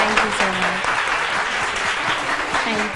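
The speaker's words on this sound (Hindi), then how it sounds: "इनके लिए तालियां।" A studio audience claps loudly and steadily for a singing couple on a TV show, an unbroken close wash of applause with a voice faintly audible underneath.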